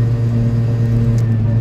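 A Piaggio Ape 50 three-wheeler's small engine drones steadily while climbing a hill through Gummersbach, loud and close throughout, with no voices.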